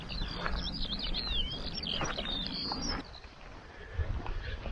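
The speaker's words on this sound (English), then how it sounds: "So there's the bird making the bird noise." A bird calls repeatedly with bright, looping whistled notes over soft outdoor background noise on a Welsh hill walk near Abergavenny, fading out partway through.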